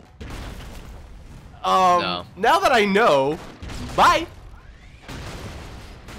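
Explosions in the Broforce co-op video game burst out in short loud blasts between excited voices, with players talking and laughing over the game sounds.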